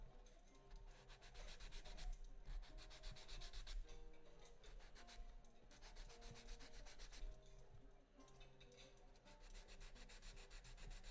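A wooden hurdy-gurdy part being sanded by hand, with steady rhythmic back-and-forth rasping strokes close up and fairly even in loudness throughout, no voices.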